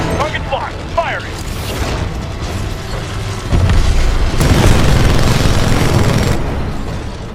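Titan weapons fire and explosions boom loudly in the Titanfall 2 campaign, with heavy blasts and a dense roar swelling midway, and voices over the battle.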